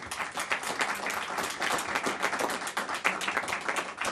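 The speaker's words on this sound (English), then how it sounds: "Let's have a round of applause for them." A political audience applauds steadily, dense clapping spread across a crowd that stays loud and even throughout, with no talk over it.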